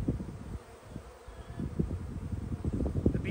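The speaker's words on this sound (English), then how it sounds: "The bees are a little bit stirred up right now because we just shook them into a package." Stirred-up honeybees just shaken into a package on a fine day outdoors, a low buzzing hum that swells and pulses with the swarm, close to the microphone, with faint rustle and wind behind it.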